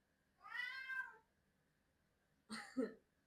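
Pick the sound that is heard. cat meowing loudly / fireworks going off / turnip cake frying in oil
cat meowing loudly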